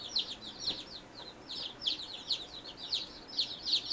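Newly arrived replacement baby chicks peep in quick, high, repeated chirps at steady intervals, fairly near but soft, with no talking.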